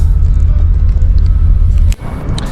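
Steady low engine rumble aboard a ferry crossing toward the mainland, loud and continuous, briefly dipping near the end before resuming.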